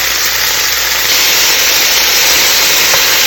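Chopped onion, celery and bell pepper, the Cajun trinity, sizzle in hot bacon grease in a pan for red beans and rice, a steady, loud, broadband frying hiss with no talking.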